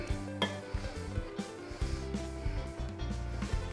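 Utensils stirring a monkfish terrine mixture in a dish, with repeated soft clinks and scrapes in an uneven rhythm, close and fairly quiet.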